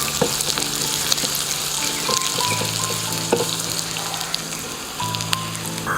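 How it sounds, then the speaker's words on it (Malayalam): Dried red chillies and curry leaves sizzle in hot oil for a Kerala pachadi tempering, a steady crackling fry with faint stirring clicks, close and continuous with no talk. "3 വറ്റൽ മുളക്, ഒരു 2 കറിവേപ്പില എല്ലാം കൂടി ഇട്ട് കൊടുത്ത് നന്നായിട്ടൊന്ന് നമ്മളൊന്ന് ഇളക്കി കൊടുത്ത്"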